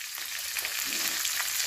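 Green chillies sizzle and fry in hot oil in a pan while tempering a bottle gourd curry, a steady close crackle with small pops and no talking.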